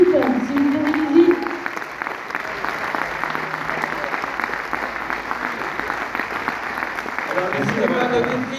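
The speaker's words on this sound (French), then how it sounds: "Je pense qu'on peut encore applaudir toute l'équipe." A cinema audience at a film premiere applauds steadily for several seconds, continuous dense clapping with a voice speaking briefly at the start and again near the end.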